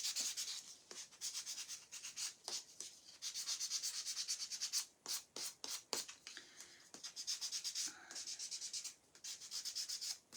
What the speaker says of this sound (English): Gonna do a little bit more sanding on it here